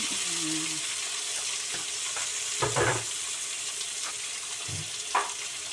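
Tomatoes sautéing in a pan for a canned mackerel fish curry give a steady, close sizzle with a few scraping stirs and brief clatters, with no talk.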